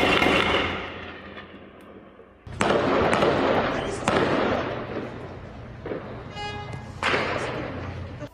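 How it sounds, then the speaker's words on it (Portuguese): Several sharp cracking gunshots from high-caliber weapons ring out at intervals at night in Guarapuava, Brazil, loud and echoing, with a muffled voice and background noise between them. "Muitos tiros foram ouvidos durante o fim da noite e a madrugada em Guarapuava."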